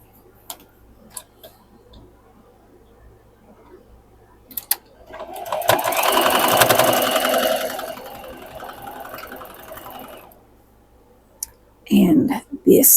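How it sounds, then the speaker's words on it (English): A sewing machine stitches a modern quilt block, starting with a few soft clicks and then a steady mid-volume whirring run of several seconds, followed by brief handling noises and a short burst of close activity. "Now let's sew this one."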